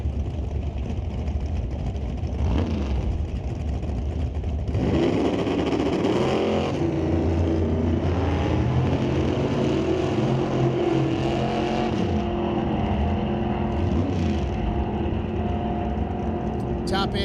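Drag race cars, a 1955 Chevy and a Chevy Nova, idle with a low rumble, then erupt into a loud, sustained roar of revving engines that swells and wavers before easing slightly toward the end.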